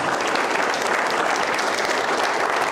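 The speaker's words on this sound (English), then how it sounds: "Let's give him another warm round of applause." Warm, steady audience applause after a Hungarian foreign minister's speech at an evening event, a dense even wash of clapping that holds at one level throughout with no talking.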